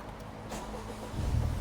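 Honda Civic Type R FK8, a wrecked car, cranking and catching: a steady low churn that swells into a louder engine roar near the end, close by with no talk.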